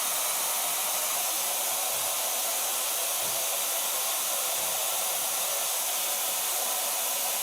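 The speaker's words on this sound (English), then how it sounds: "Well, blow drying." Hair dryer blowing on hair in a salon, a steady loud airy whoosh that holds constant and close throughout with no voices over it.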